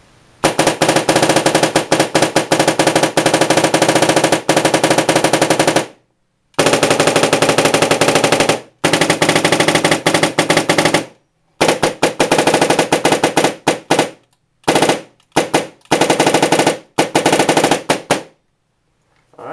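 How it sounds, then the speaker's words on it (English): FEP Quest airsoft gun dry firing in long and short full-auto bursts, a loud, continuous mechanical rattle broken by brief pauses, ending in a few quick short bursts. "So I'm just going to do some dry firing and kind of show you what this thing can do."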